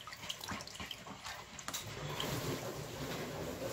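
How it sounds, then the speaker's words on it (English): Rice being rinsed and twirled around in water in a bowl, giving a soft, continuous close-up sloshing and swishing, fairly quiet with no talk. "So you see me just twirling the rice around in the bowl to clean it some more."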